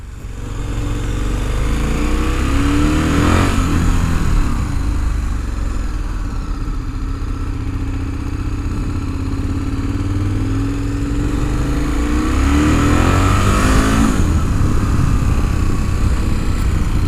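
A KTM 1050 Adventure motorcycle pulls along on a test ride. A steady, close engine drone rises in pitch twice as it accelerates, with constant wind and road noise underneath.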